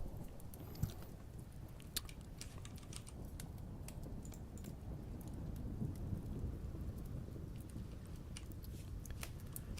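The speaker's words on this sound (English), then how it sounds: "the constant storm in the background is mad." A constant thunderstorm with rain rumbles through the game Vintage Story, a dense, steady wash of rainfall with occasional sharp crackles, continuous and without speech.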